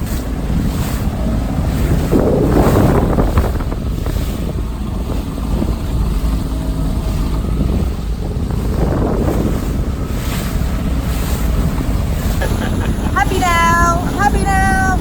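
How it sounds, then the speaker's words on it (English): Boat motoring on the Adriatic Sea off Croatia, a loud steady engine and water rush buffeted by strong wind noise, with voices and a brief whistle-like cry near the end. "Happy now, got a boat."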